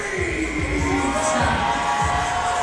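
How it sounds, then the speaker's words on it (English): A crowd cheers and whoops for boxer Anthony Priest entering the ring, a dense, loud, steady roar of many voices with shrill shouts throughout, no commentary over it. "Big reception coming from the crowd for Anthony Priest."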